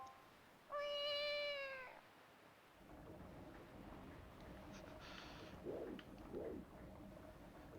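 A cartoonish cat meow from The Legend of Zelda: The Wind Waker, a single stretched harmonic cry up close, followed by a quieter game ambience with two short chirpy calls near the end.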